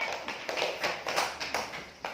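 Students in a classroom clap briefly, making a handful of light, uneven claps spaced about a quarter second apart, fairly faint and heard without talking.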